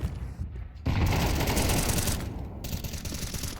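Rapid automatic gunfire from a Counter-Strike match on Dust 2 during a professional tournament, a dense, loud burst of shots that starts abruptly and continues with sustained rattling bursts.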